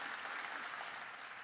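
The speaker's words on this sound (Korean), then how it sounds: "우리 감사하다고 다시 한번 박수하시겠습니다." A church congregation at a Sunday worship service gives a round of thankful applause, steady and fairly soft, sustained evenly across the short stretch with no speech over it.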